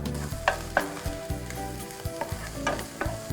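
Shallots, pickled radish and shrimp are stir-fried in a pan with a steady sizzle, punctuated by several sharp scrapes and clinks of a spatula at close range.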